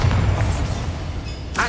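Bombarda blasting spell from the video game Hogwarts Legacy: a loud, dense low boom that fills the clip, with a brief brighter burst near the end.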